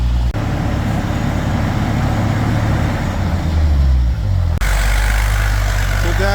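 An old carbureted Bombardier vehicle engine runs steadily at close range with a low, throbbing idle, briefly cutting out and then continuing, inside a shop.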